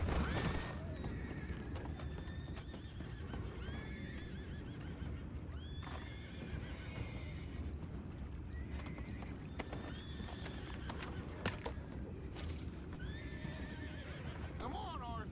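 Horses whinny several times over a steady clatter of hooves and wagon rumble in Red Dead Redemption 2, with a voice talking over the busy, continuous scene.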